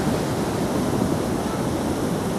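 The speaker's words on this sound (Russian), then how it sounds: "Вода уже пошла поверх моста." Floodwater from the Lesnoy Tambov river pouring over a bridge, a steady, loud broadband rush of flowing water with no breaks and no voices.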